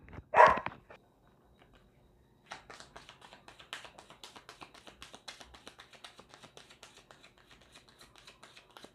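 A neighbour's noisy pet animal lets out one sharp, loud call near the start, followed by a stretch of quiet and then faint, steady rhythmic tapping and shuffling in the background.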